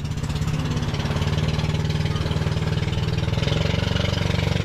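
The single engine of a large wooden boat runs steadily, a rhythmic, throbbing mid-pitched drone that is loud and close, with no talk over it.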